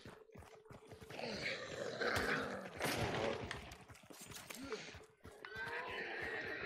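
A horse whinnies loudly over busy game noise in Hunt: Showdown, with scattered thuds and other effects around it.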